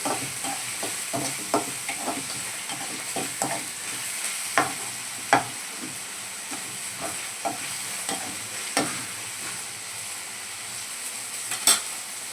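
Onions and chillies frying in a pan for onion saagu sizzle in a steady, close hiss, punctuated by regular scrapes and taps of a spoon stirring against the pan.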